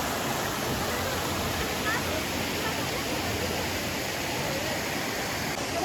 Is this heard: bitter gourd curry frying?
no